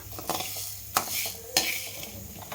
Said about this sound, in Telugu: ఇప్పుడు మినపప్పు అంతకంటే కొద్దిగా తక్కువ శనగపప్పు రెండు వేయించుకోండి ఇలాగ నూనె వేయకుండా